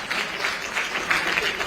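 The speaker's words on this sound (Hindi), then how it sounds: "आपके लिए तालियां हो जाए जोरदार" An audience at a political forum stage claps, a brief steady wash of applause at moderate level.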